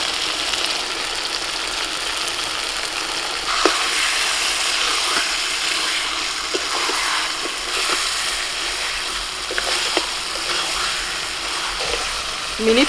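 Mutton pieces fry and get stirred in hot oil with fried onions in a kadai, a constant broad sizzle punctuated by repeated scraping clicks of the spatula throughout.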